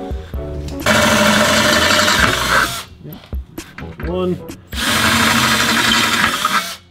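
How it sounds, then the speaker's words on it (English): A power drill whines loudly in two long bursts, drilling out holes in a car's under-panel engine cover for rivet nuts, with brief quieter handling noises and a voice speaking between them. "So gonna drill it out a little bit,"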